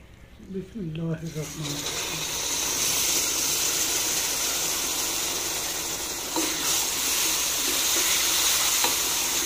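Milk tinted with food colour goes into hot semolina for village-style suji halwa, setting off a loud, continuous sizzling hiss after a brief voice, bubbling on steadily to the end.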